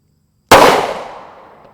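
A single loud 9mm gunshot, a Winchester M1152 round fired into ballistic gel, cracks sharply out of silence and then trails off in a fading echo over about a second.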